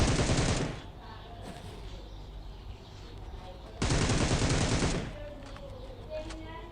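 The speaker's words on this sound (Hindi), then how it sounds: "तो यहाँ पीछे से मुझे फिर से एक हेयरिंग आती है गोलियों की" Bursts of automatic gunfire from a mobile shooter game played on an iPad Mini 5, two loud sustained volleys of rapid shots separated by quieter game ambience with fainter distant shots.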